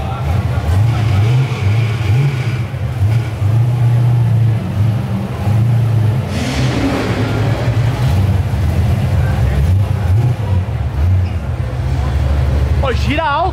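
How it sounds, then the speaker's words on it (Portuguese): Classic naturally aspirated Dodge V8 at an antique car show, its deep engine rumble pulsing loud and close throughout, rising in revs, with people talking over it. "Pô, gira alto aqui, né?"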